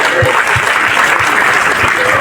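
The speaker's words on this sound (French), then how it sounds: "acclamez pour vous-même" An audience claps in steady applause at a flag-raising ceremony, a loud, dense wash of hands close by with rhythmic low thumps running through it.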